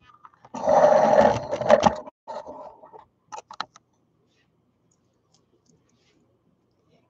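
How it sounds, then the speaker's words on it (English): A home sewing machine stitches skirted baby bummies in a loud, continuous run of about a second and a half, then stops and restarts in shorter bursts and a few quick clicks before falling silent. "let's go sew these on."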